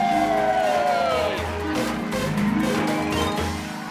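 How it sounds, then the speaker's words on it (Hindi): A crowd claps and cheers for a Dahi Handi team at a festive pot-breaking event, the cheering dense and continuous with whoops rising over a steady backdrop of voices. "तो जोरदार तालियां बजाकर इस टीम का हौसला बढ़ाइए"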